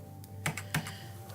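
Short, quiet bursts of typing on a computer keyboard: two distinct key clicks stand out over faint steady background hum, with a couple of softer taps around them.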